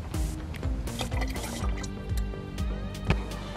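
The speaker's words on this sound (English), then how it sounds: "Alright, next we're going to add some water." Water poured into a plastic bottle already holding vegetable oil, with close dripping and splashing over faint background music.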